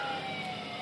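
A police siren sounds steadily and fairly loud throughout a brief moment, with no voices over it.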